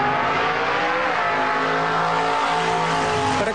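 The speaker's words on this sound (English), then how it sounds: "The sound of a car will always depend on the direction it's traveling." A car passing by close and loud, its engine and tire noise sustained throughout with pitch sliding lower as it goes, a clear Doppler shift, no voices.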